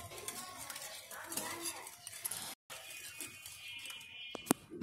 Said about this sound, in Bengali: এক কাপ পরিমাণ তেল দিয়ে দিব সয়াবিন তেল তেলটাকেও ভালোভাবে আমি